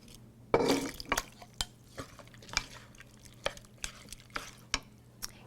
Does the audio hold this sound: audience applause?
no